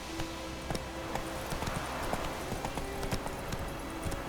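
Roach the horse trotting in The Witcher 3, hooves clip-clopping in a quick, even rhythm at close range over a constant background hum.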